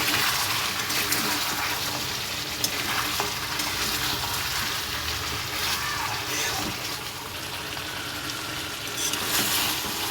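Meat frying and being stirred in a pan for a village-style dish, with a continuous loud sizzle and bubbling throughout and repeated stirring scrapes.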